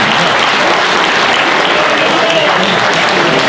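Loud, dense applause from an audience at an anniversary gathering of a gusle players' society, sustained thick clapping from start to finish.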